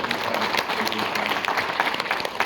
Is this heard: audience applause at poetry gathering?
yes